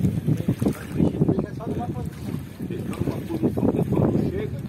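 A canoe's motor runs on the Tapajós river, a steady churning drone buffeted by gusty wind noise on the microphone for the whole stretch.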